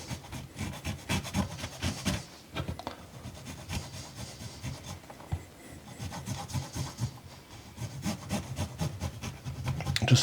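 Broken pieces rubbed back and forth across a sharp rasp-style zester, giving steady scraping strokes in quick repeated bursts with a short pause midway.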